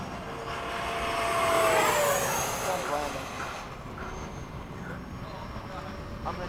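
A model jet aircraft from an RC formation flight (80mm F/A-18D, 90mm F-22, 70mm F/A-18 electric ducted fans) makes a high-speed pass, its whine rising and sweeping past over roughly two seconds before fading, with people talking nearby.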